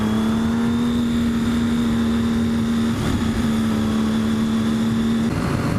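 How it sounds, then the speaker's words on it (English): A Triumph motorcycle engine holds a loud, steady high rev while riding on a sandy road, a constant droning tone sustained throughout with a brief dip near the middle. "I don't think there's any bike that sounds better than the Triumph."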